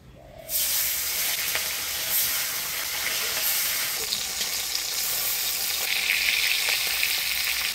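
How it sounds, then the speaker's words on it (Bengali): Bata fish drops into hot oil and fries with a sudden loud burst of sizzling that settles into a continuous close hiss and crackle. "তেল গরম হয়ে গেছে, প্রথমে বাটা মাছটা ভেজে নেব।"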